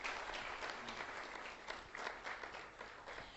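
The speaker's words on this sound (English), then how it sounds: "give yourselves a round of applause" Faint, steady applause from a crowd, heard from a distance with no voices over it.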